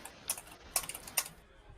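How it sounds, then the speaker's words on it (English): A few quick bursts of computer keyboard typing, close and fairly quiet, with short pauses between clusters of key clicks and no talk. "I'll mute for further typing."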